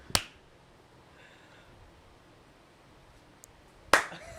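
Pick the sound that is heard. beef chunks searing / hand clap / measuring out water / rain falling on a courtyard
hand clap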